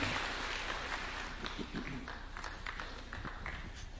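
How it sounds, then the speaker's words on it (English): Audience applause for Kenyan President William Ruto at the launch of the Kenya Urban Support Program, a quiet, steady patter of scattered clapping through the whole stretch, with a few sharper claps standing out. "One more round of applause for His Excellency"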